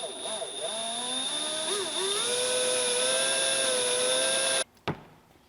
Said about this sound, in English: Alright, we got our hole drilled.